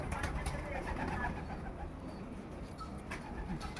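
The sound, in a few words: racing homer pigeon cooing while held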